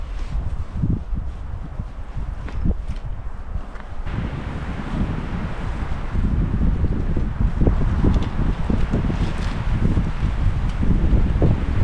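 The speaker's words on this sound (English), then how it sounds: "Kind of windy right now." Wind gusts across a lakeside campsite on the Peck Lake trail in Algonquin Park, a steady rushing roar with buffeting microphone noise that grows stronger in the second half, and no talking.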